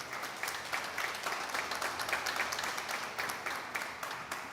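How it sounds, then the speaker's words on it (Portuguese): A church congregation applauds after a sermon, many hands clapping in a loosely rhythmic, pulsing pattern at moderate volume, steady for several seconds with no speech over it. "Pode aplaudir a palavra do Senhor"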